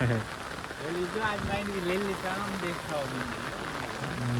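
Steady rain falls hard on a village near Botad, Gujarat, an even, close wash of drops hitting surfaces, while someone talks over it for most of the stretch.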